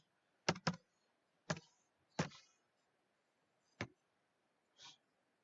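Several sharp keystrokes on a computer keyboard as a login ID, password and captcha are entered, coming in a quick pair, then single taps spaced irregularly, close and fairly quiet with no talking.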